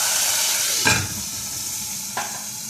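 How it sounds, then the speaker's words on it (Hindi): Half a glass of water goes into a pan of sizzling garlic, giving a steady loud hiss throughout, with two brief louder surges of spitting and bubbling. "लहसुन हो गया, इसमें आधा गिलास पानी डाल देंगे।"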